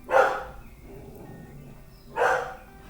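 A dog barks twice, about two seconds apart: two short, fairly loud, nearby woofs against a quiet room background with no speech.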